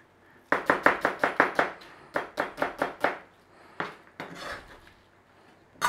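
A knife slices through onion on a board in quick bursts of close, crisp cuts: a fast run of about seven strokes, a pause, another run of five, then a few scattered slices, with no voices.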